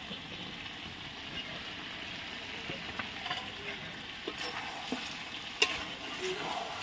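Chicken leg pieces and fried potatoes cooking in a pan give a continuous low sizzle, with occasional soft scrapes and taps of stirring.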